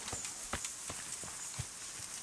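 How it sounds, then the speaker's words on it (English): Horse hooves clopping in the medieval video game Kingdom Come: Deliverance, a string of soft, uneven hoof thuds at close range with no talk over them. "That was a horse."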